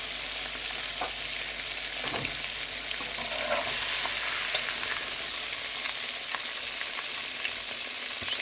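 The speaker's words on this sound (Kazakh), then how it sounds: "Бауырсақ қуырған сияқты қуырып аласыздар." Chicken wings deep-fry in hot oil for a KFC-style dish, giving a steady, busy sizzle and crackle with occasional small pops, close and continuous with no voices.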